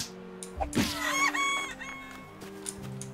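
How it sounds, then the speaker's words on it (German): Video game chicken clucking and crowing close up in short bursts over a steady tonal background, with no voices. "Dachte ich es mir doch. Hier ist auch ein Huhn."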